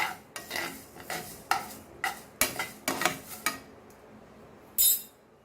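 Spices roasting in a pan on a low flame, stirred with a metal spoon that scrapes and clinks against the pan in repeated quick strokes, with a faint sizzle beneath.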